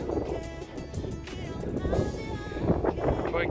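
Gusty wind buffets the microphone on an outdoor trail near a camping spot overlooking a wide view, a steady broadband rumble with rising gusts throughout.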